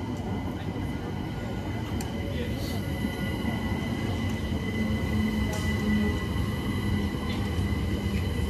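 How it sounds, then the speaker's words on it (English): London Overground train standing at platform 7 of a station, giving a steady low rumble and hum that holds for the whole stretch with no sharp events, with faint voice-like sound in the background. "The train now standing at platform 7 is the 1438 London Overground service to Clapham Junction"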